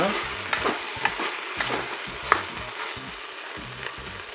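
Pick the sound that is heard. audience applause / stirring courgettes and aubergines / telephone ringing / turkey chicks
stirring courgettes and aubergines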